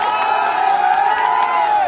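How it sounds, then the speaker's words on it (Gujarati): A crowd at an AAP public rally in Morbi cheers and applauds in a steady, loud, close roar that lasts the whole two seconds without letting up. "એકવાર તાળીઓથી વધારો સાહેબ।"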